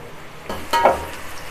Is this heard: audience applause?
no